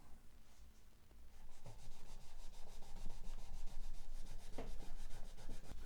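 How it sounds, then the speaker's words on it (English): Rag rubbing a Seagull S12 Coastline acoustic guitar fretboard during cleaning, a steady close scrubbing sound with a fast back-and-forth rhythm that grows stronger after the first second. "now one more cleaning of the fretboard"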